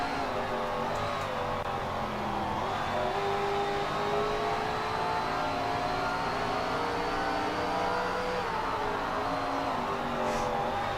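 Racing cars in an Xbox racing game, a steady close engine drone with rising and falling whine as a car accelerates, alone without talk.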